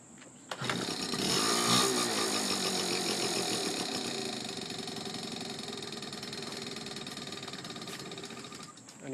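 A Honda Urban Express NU50 scooter's small engine starts and runs, a loud buzzy two-stroke rattle that settles into a steady, slightly uneven idle for several seconds, close to the listener.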